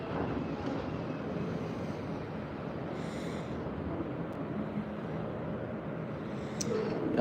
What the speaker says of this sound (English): Winds are definitely gusting to at least 35, and they've been doing that for 3 hours.